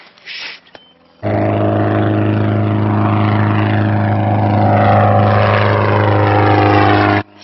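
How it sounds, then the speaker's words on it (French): A loud, steady airplane engine drone with a strong low hum, starting abruptly and holding constant for several seconds before cutting off. "c'est pas une motoneige, c'est un moteur d'avion"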